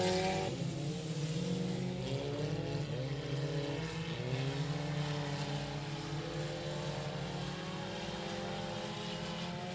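Race cars in a 4-cylinder class heat race at Texarkana 67 Speedway at night roar steadily with a loud, sustained engine drone, several motors rising and falling in pitch as they circle the track, with no talk.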